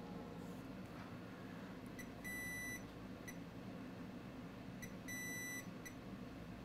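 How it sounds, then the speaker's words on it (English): A multimeter in diode mode beeps while probing capacitors around a chip on an Asus Q526F laptop board, giving two pairs of short thin tones several seconds apart over a steady room hum. "Let me measure some capacitors around the chip, meter in diode mode."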